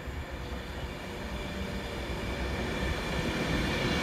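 A Pendolino train passing through Wigan North Western station: a loud, steady rail rumble with wheel and carriage noise that swells slightly as it goes by, with no voices.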